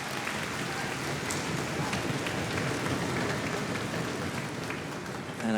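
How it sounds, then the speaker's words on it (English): An audience at a sixth-grade all-county chorus concert applauds the arranger with sustained, even clapping that holds at a constant level throughout, with no talking over it. "let's give Mrs. Baker a round of applause"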